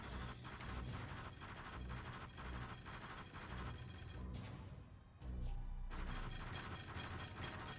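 Explosions and gunfire from the 1996 PlayStation game Tunnel B1 thud and crackle in repeated bursts, with a deeper blast after a short dip midway, dense game action with no talking.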